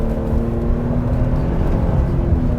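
A 2022 Toyota Tundra's 3.5-liter V6 pulls hard from around 80 km/h, a steady loud engine drone with road and tire roar filling the cabin, no talking over it.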